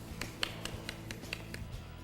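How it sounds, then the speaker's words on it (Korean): Scattered applause from a small audience at a professional Go tournament broadcast, the LG Cup 16-round match, rising as sharp, uneven claps over quiet room tone. "이렇게 감사합니다 이렇게 말이 끝나자마자 무섭게 주변에서 박수 소리가 나오네요"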